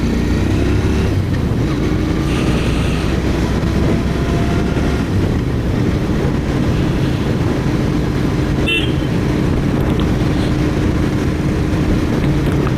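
A Royal Enfield Interceptor 650 motorcycle rides along back roads near Bangalore, its engine and wind forming a loud, steady drone throughout with a brief higher tone near the end.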